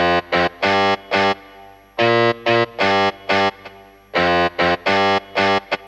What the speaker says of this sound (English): Distortion guitar.